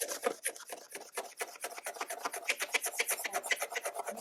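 The oxidized surface of a plastic car headlight is scraped by hand in fast, rhythmic rasping strokes, close and steady, with no voices.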